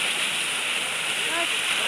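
Water pours from an eagle-head spout of a decorative fountain at the Kaneri Math temple complex, a steady, close, hissing splash that continues evenly throughout.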